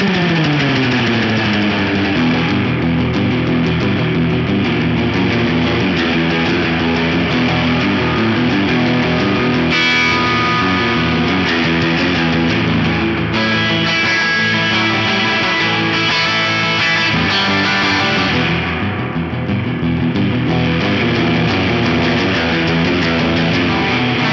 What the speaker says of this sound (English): you can get a pretty cool surf kind of sound, especially if you're using a hot bridge pickup